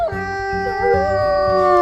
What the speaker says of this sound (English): Let's hear his howl too.